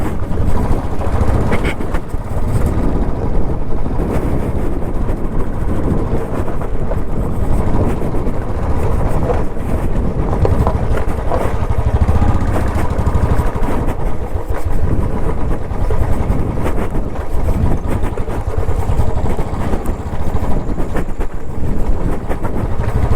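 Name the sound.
vehicle engine driving off-road down to a pond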